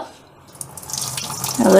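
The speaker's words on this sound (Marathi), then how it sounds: "आता मी हे धुवून घेते स्वच्छ." Cashews being rinsed in water, splashing and running sounds building from quiet to moderately loud over a brief stretch, with no talking.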